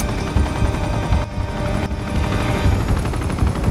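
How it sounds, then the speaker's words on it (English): A helicopter in Uncharted 2 attacks with gunfire, its loud pulsing rotor thump mixed with bursts of rapid shots and brief dropouts, all close and busy without talk. "Damn that chopper!"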